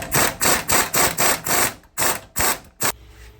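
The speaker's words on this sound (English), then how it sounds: "Now we're gonna undo the nut up here." Repeated sharp metallic rattling bursts, about nine in quick succession, from a tool undoing a nut on a Suzuki Carry suspension strut held in a spring compressor, close and loud.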